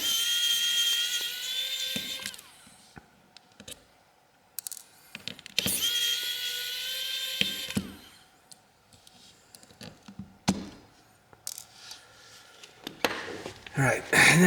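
Small screws being backed out of a CAT S62 rugged phone during a teardown, with a high whirring electric screwdriver running in several bursts separated by quiet gaps and small clicks, close and fairly loud.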